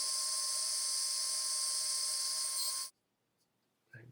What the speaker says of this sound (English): Cutting them to size.